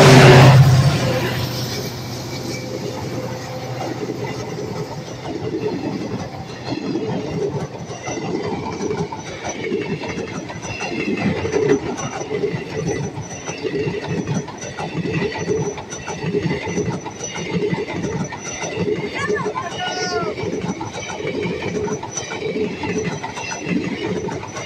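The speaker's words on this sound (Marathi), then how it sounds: "WDP4D लोकोमोटिव्ह गाडी आज धावत आहे." Indian Railways Maharashtra Express train hauled by a WDP4D diesel locomotive running past, a long continuous rumble with rhythmic clanking of wagons over rail joints and metallic squeals, loud and close, with faint voices at times.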